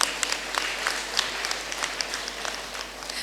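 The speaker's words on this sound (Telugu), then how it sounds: "సో ఒకసారి మనమే ఒకసారి గట్టిగా క్లాప్ చేసుకుందాం" Crowd at a vegetarian rally in Nizampet breaks into brief, lively applause, with close individual claps standing out over a steady wash of hands and no talk on top.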